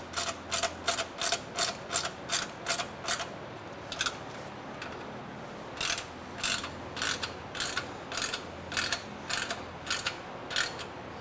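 Ratchet working Porsche 991 GT3 exhaust bolts, a brisk series of close, sharp clicking bursts in two runs separated by a brief pause, with no talking.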